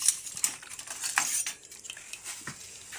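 Metal ladle scraping and clinking against a soup pot while sour soup is scooped out, a run of quick close scrapes and taps with no talking.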